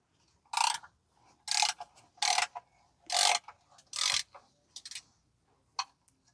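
A ratchet clicks in quick bursts as it loosens the differential plate bolts under a 2015 Toyota Sienna 3.5 V6 AWD. Six or seven loud close rattling runs are separated by short pauses.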